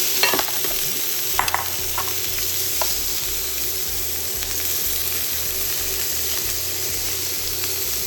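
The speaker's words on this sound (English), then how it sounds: "I'm gonna add my shrimp." Shrimp sizzle and fry steadily in a hot pan for crab fried rice, a continuous close hiss with a few faint clinks and stirring touches.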